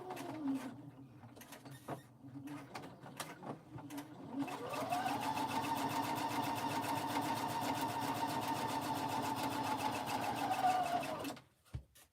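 A sewing machine stitches pieces of a pink baby quilt together. A few short starts and stops come first, then a long, steady, close mechanical whir runs for about six seconds before it cuts off.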